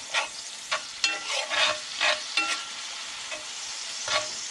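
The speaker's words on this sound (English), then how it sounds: "So I'm just going to let this cook out for a little bit, let some of the alcohol cook off, let the mushrooms cook" Mushrooms sizzle with bourbon in a frying pan with pork chop drippings, the steady crackle broken by repeated scraping stirs, close and fairly loud.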